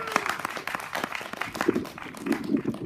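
Scattered audience applause at a live front-porch variety show as guests come down to the stage, uneven clapping with a voice speaking briefly over it.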